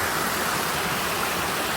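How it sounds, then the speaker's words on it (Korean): A small waterfall pours steadily through a rocky natural valley, a constant close hiss of rushing water with no voices. "여기 위에 보면 소폭포가 네, 이렇게 흐릅니다"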